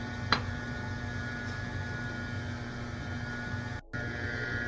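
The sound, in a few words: electric mixer running, mixing yellow cake batter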